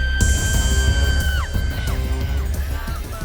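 Desperate screams of a victim mixed with hoarse, jubilant jeers from an attacker, loud overlapping yells and shouts that sustain throughout, with bangs and a crowd-like din behind them.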